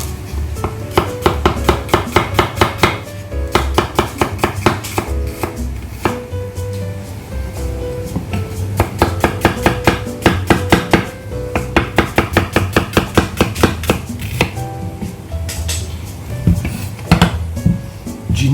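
Red onion is chopped with a knife on a cutting board, the blade striking in quick rhythmic bursts of sharp, close taps separated by short pauses.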